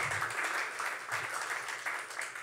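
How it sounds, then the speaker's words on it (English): Audience at a literary event in Spokane claps steadily, a continuous crowded patter of hands that holds an even, moderately loud level throughout. "give yourselves a round of applause for just supporting this sort of event in Spokane"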